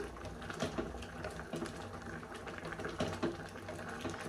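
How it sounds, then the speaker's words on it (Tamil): Sambar bubbling and simmering steadily in a pot, a dense crackling bubble texture with no talking. "ஸோ இப்போ இது இந்த மாதிரி கொதிக்க ஆரம்பிச்சிருச்சு."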